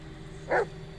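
A dog gives a single short bark at moderate distance over a low steady background hum.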